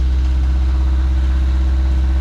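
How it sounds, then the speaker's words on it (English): Running Mazda B2000 truck engine with a suspected rod knock, a loud, steady close idle drone with an even low pulsing beat and no talk. "I think it's a rod knock"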